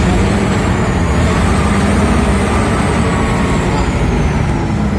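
A Liugong bulldozer working a Kalimantan coal mine in gear, its engine a loud, steady, close diesel roar with a rough low rumble that holds without a break.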